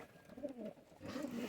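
A pigeon gives soft, low cooing phrases, two brief murmuring bursts that sound close but quiet, with no talk over them.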